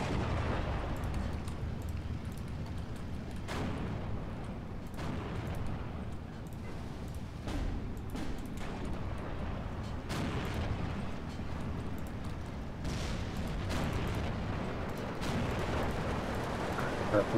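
Repeated booming artillery blasts and bursts in the video game Steel Division 2, scattered throughout, with voices talking over the steady rumble.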